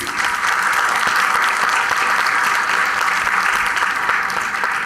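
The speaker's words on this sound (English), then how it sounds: "Let's give our distinguished panel a warm welcome and a big round of applause, please." A large audience applauds a distinguished panel at an HR conclave session, steady dense clapping throughout, loud and even with no talk over it.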